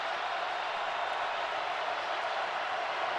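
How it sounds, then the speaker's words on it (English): Stadium crowd at a Missouri versus Tennessee college football game in 2018, a broad, steady roar of many voices rising for the Tennessee defense, continuous and even without distinct cheers or claps. "Crowd trying to come to life for the Tennessee defense"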